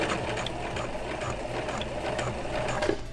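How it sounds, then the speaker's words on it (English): A sewing machine back stitches pajama pants with a close, steady ratcheting clatter of fast rhythmic needle strokes that runs without pause. "we're going to back stitch one more time"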